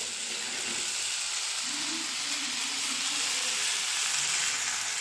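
Soybean chunks for chilli soybean fry in a hot pan with a steady, close sizzle and hiss throughout, occasional soft stirring scrapes underneath, and no voices.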